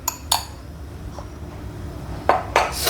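A spoon adds spicy chutney to bhel puri in a bowl, giving a few sharp, close metallic clinks and taps spaced apart against a quiet kitchen background.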